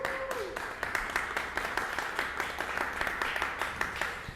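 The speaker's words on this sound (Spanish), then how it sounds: "yo quiero que se den un fuerte aplauso por ese esfuerzo que hicieron el día de hoy" Audience applause at a church gathering in Atlacomulco: a steady round of rhythmic, fairly close hand claps that runs evenly through the whole stretch, with a faint tone briefly audible at the start.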